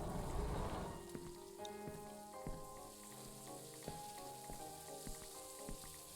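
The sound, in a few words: digital fireplace crackling in video game Stifled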